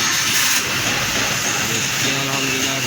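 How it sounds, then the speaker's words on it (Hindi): A tuned 2015 Suzuki Cultus car engine runs in a workshop after starting, giving a steady, loud, broadband roar with faint tonal lines that persists throughout, with someone talking over it. "गाड़ी हमारी यहाँ पर स्टार्ट हो चुकी है। साउंड चेक कर सकते हैं आप इंजन का।"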